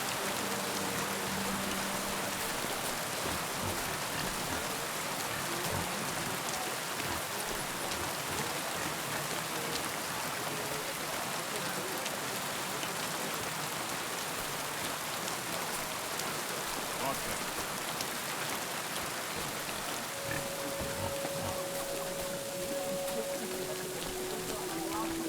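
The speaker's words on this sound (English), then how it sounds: "This damn rain." Steady rain pours throughout in the video game Kingdom Come Deliverance 2, a dense continuous hiss of drops on surfaces, with a few faint tonal game sounds near the end.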